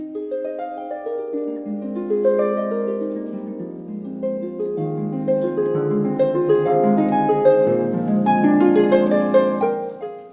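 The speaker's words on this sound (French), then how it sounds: "Ce que vous entendez, c'est une harpe." A harp plays a flowing melody of plucked, ringing notes that overlap and sustain, clear and alone.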